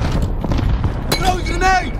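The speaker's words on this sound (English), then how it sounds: "Allied cluster strike inbound." Cluster strike explosions from the video game Warzone, a run of deep booms and rumbling blasts rolling through the scene under game noise and a radio-style voice.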